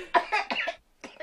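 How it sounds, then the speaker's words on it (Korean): An older woman coughs several times in a row, harsh and close, with a short pause before a final cough, during a Korean historical drama scene. "기침 그 심해지셨네."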